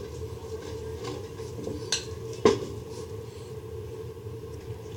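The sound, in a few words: mashing potato-semolina dough with a spoon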